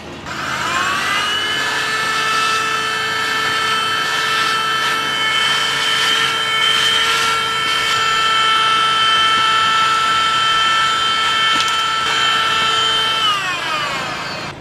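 A Flipkart SmartBuy handheld car vacuum cleaner pulls dust off a car mat, its motor whining in a steady, loud, high-pitched drone that holds for about fourteen seconds before winding down at the end.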